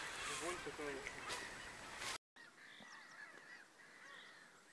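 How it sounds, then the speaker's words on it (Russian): Several gulls call in short, harsh cries at a moderate distance over a landfill near Stadnytsia, Vinnytsia, Ukraine, after a burst of loud noisy wind or handling, with a brief dropout between. "Вон куча птиц. Чаек каких-то."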